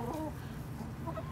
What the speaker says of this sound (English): Oh, there's some of the other chickens.